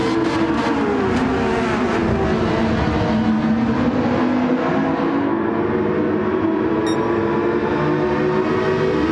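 Several GT3 race cars, a Porsche and a Ferrari among them, roar continuously close together in a racing video game, with steady high-revving engine drone and shifting pitch throughout, no talk.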